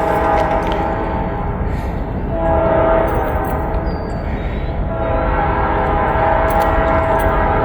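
A passing train rumbles loudly and close by with a sustained roar and a steady horn tone partway through, the noise swelling and easing slightly as the cars roll past.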